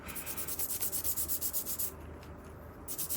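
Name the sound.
scrubbing grime off a vintage handheld radio transceiver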